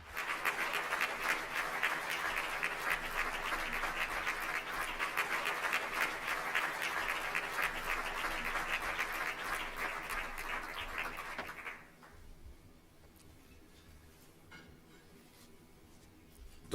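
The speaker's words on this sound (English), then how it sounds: "Sir, we applaud you." Audience applause for the Prince of Wales: a steady crowd clapping for about twelve seconds that stops abruptly and leaves a quiet room.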